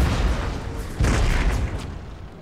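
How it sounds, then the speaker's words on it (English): Howitzer artillery fires in a Napoleon: Total War battle, a heavy booming blast that rolls into a rumbling decay, with a second thump about a second in, loud and close. "the detail that they put behind the effects on the howitzer shots"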